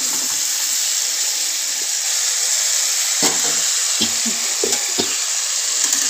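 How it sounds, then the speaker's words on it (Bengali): Cauliflower and potato frying with spices in a pan, a loud constant hiss of hot oil broken by a few scraping stirs of the spatula, close up and without speech. "এইবার ভালো করে মশলার সাথে ফুলকপি আলুটাকে ভালো করে কষিয়ে নেব খানিকক্ষণ"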